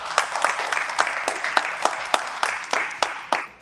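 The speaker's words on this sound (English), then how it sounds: "Round of applause for Mr. Stephen Reddish, ladies and gentlemen." An audience at a book event in Manhattan applauds after a poem reading, a modest, fairly sparse round of clapping with distinct individual claps standing out, fading toward the end.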